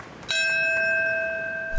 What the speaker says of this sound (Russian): бьет колокол